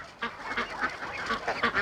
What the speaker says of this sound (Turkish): Burada kazlar var.